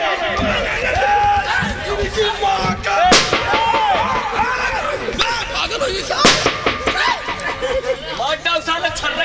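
Two sharp, loud gunshot cracks ring out a few seconds apart during a nautanki folk theatre performance, amid a noisy crowd with excited voices chattering and shouting throughout.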